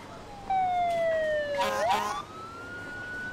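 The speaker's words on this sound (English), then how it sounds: "Your sirens are really beautiful." Emergency vehicle siren from a modded Emergency 4 firefighting game, a single wailing tone sweeping down then back up, fairly clear over a soft background hum with a brief burst of game noise mid-sweep.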